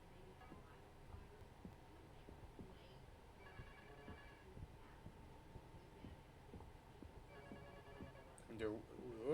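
A telephone rings in the video game Luto, with faint repeated bursts of a trilling bell over a low hum, and a person talks over them.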